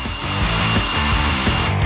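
A hair dryer blows steadily at close range to dry eggs in a baking tray, a loud continuous whirring motor hum with an even airflow hiss for the whole clip.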